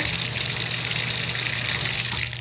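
Water drains steadily through a stainless steel TubShroom drain protector, a continuous close hiss of flowing water with no pauses and no voices.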